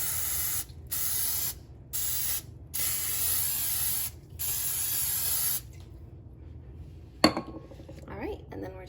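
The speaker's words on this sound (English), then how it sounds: "I'm gonna spray my baking dish with this Pam" Pam cooking oil spray hisses onto a 13 by 9 inch baking dish in about five close, sharp bursts, followed by a quiet pause and a light clink of the dish or can.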